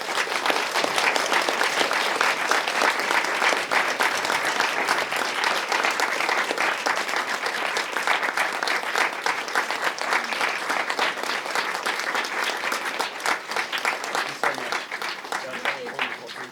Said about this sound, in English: Applause for our very special guests